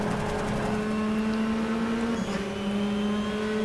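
A steady Ford Focus race car engine drone in the racing game GTR2 at Zhuhai circuit, a sustained tone that dips briefly in pitch, like an engine holding revs, with no talking.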